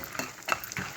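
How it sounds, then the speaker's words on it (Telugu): Sesame seeds and peanuts fry in hot tempering oil for a rice dish, with a soft sizzle and short stirring or crackling bursts, close by and fairly quiet. "అలాగే నువ్వులు, పల్లీలు కూడా వేసేస్తున్నాను. ఇవి ఒక్కసారి బాగా వేగాలి."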